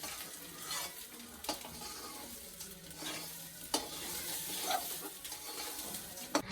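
Basanti pulao is stirred and fried in a pan, with a steady soft sizzle under repeated scraping strokes of a spoon against the pan and a few sharper clinks near the end.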